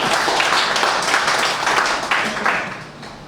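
An audience at a Hindi comic poetry recital claps in a dense, steady burst of applause that swells in waves and then begins to taper off.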